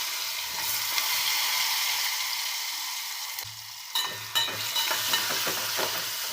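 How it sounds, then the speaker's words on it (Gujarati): Potatoes frying in a pan with turmeric and spices while being stirred: a constant soft sizzle with intermittent scraping stirs, a brief lull midway, then more clinking stirring strokes close by. "બટેટા પહેલાં વઘારી નાખીએ ને એટલે બટેટામાં સરસ મસાલો ચડી જાય બધો."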